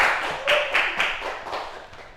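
A classroom group claps for a student, a short burst of several hand claps in uneven rhythm that fades out within about two seconds.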